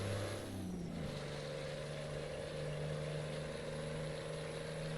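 A steady, loud diesel truck engine drone from Euro Truck Simulator 2, a low hum that shifts pitch in the first second and then holds an even rumble with no talk.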